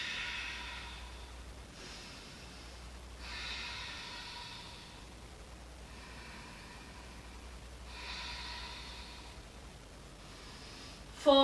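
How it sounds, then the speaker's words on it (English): Slow, steady breaths during a yoga forward fold, with soft airy exhales rising and fading in a gentle rhythm about every few seconds, close and quiet. "And take a few breaths here."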